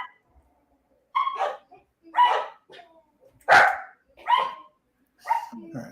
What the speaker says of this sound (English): Terrifying dogs.